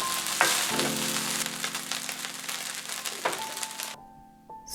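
Cantonese fried rice with spring onion sizzles loudly in a hot pan while being stir-fried, with scraping stir strokes over steady frying crackle that cuts off near the end.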